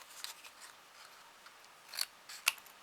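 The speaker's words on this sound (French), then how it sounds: "Hop, on va couper les bords." Scissors cut along the edges of paper while a paper knot is made, giving faint snips and one sharper crisp cut near the end in quiet surroundings.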